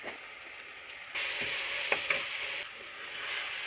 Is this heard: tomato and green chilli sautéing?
yes